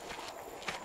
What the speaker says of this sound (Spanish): Creo que este es un caballo